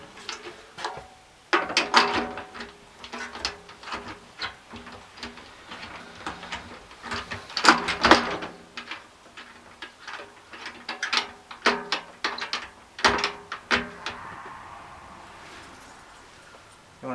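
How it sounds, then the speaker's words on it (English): Drum key and screw tightening a tom mount on a new drum kit, irregular bursts of metallic ratcheting clicks and clanks, close and fairly quiet, no talking. "tighten that with the screw on one side and a drum key on the other, just to make sure it's biting down on both sides"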